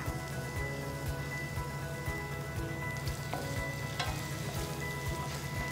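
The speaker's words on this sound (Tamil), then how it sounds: "எண்ணெய் காஞ்சதுக்கப்புறம் அதில் டைரெக்டாக வெங்காயமாக நறுக்கி இருக்கிறத ஆட் பண்ணிக்கலாம்." Constant crackling sizzle of chopped onions frying in hot oil, dense popping and spitting throughout, close and fairly loud with no voices.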